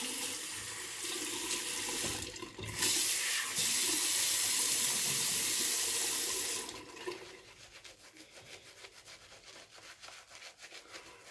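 Water runs from a tap alongside brushy rubbing as shaving cream is lathered with a broad, soft badger brush; the flow is loud for several seconds, then cuts off, leaving quieter scratchy brushing.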